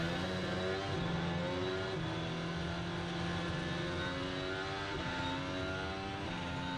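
A steady, droning Formula 1 car engine roar holds at an even level throughout with no talking, the car speeding along at a constant pace.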